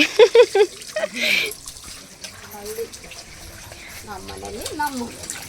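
Water runs steadily from a tap in a soft, continuous splash, while voices talk and call out over it.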